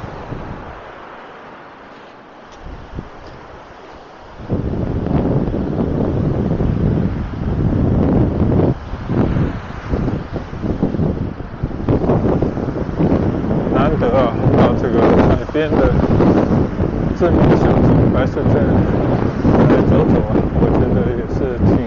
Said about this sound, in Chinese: 今天呢还是有风啊，你看有浪，你看这个海浪啊一波波的涌过来啊。